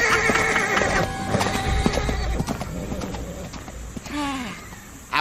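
A horse bolts away, hooves clattering on the ground before it lets out a loud, wavering neigh near the end, with a brief sharp noise right after.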